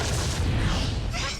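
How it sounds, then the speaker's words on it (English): A loud explosion goes off in the video game Yakuza Kiwami, a dense roaring blast with rumbling low end that fills the whole brief moment before thinning slightly at the end. "harmless explosion that she was standing 2 feet away from"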